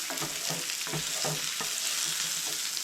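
Eggs fry in hot bacon grease while being stirred and scooted around the pan, a steady sizzle broken by repeated soft scraping strokes of the utensil at a regular pace, close and fairly loud.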